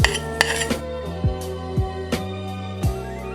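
A roux is stirred into a mushroom mixture with vegetable broth and soy sauce in a pan for a vegan KFC bowl. A utensil clinks and scrapes against the pot in several ringing metallic taps at an uneven pace, with no talking.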